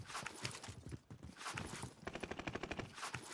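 Rapid bursts of Sten submachine gun fire in Call of Duty: Warzone Rebirth, a fast rhythmic string of shots from about two seconds in, with scattered earlier shots and footsteps-like clatter, moderately loud.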